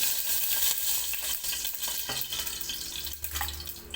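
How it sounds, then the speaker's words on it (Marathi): Oil poured into a hot pressure cooker brings a loud, continuous sizzle and crackle with wet, fluttering bursts through the middle, close up and without any talking. "आता कुकर पण चांगला तापलाय आता तेल ओतून घेते"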